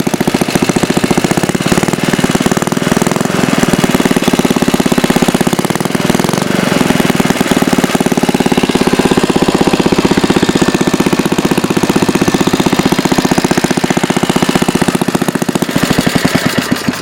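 A 1952 Briggs small engine runs steadily and loudly throughout, its rapid chugging beat unbroken with a rough, knocking mechanical clatter; the engine is blowing a little oil.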